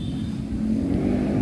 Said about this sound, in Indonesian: jadi ada suara motor nih masuk